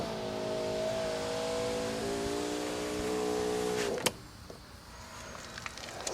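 A repaired power window motor on a 1991 Mercedes-Benz 420 SEL W126 runs with a smooth, steady whine for about four seconds, then stops with a clunk as the glass seats, followed by faint ambient noise.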